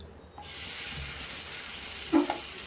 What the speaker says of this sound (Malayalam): ഇനി ഇത് ദോശക്കല്ലിലേക്ക് ഇട്ട് ചുട്ടെടുക്കാം